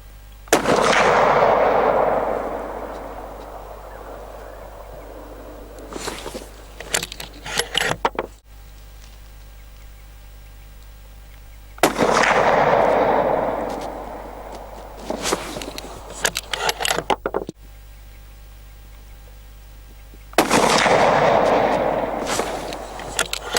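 Three loud .308 rifle shots from an Anschutz 1780 firing Winchester ammunition, each a sharp blast with a long echoing decay, spaced several seconds apart, followed by faint handling clicks and rustling between shots.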